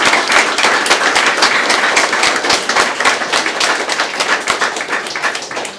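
A crowd at an inauguration in Loos applauds, with dense, loud, sustained clapping that stays even throughout and carries no voices over it.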